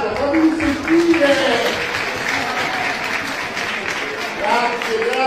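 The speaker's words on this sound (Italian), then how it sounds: "un applauso, fammi sentire!" Audience applause at a live show in Catania, Sicily: steady, dense clapping throughout, with voices and cheering rising over it.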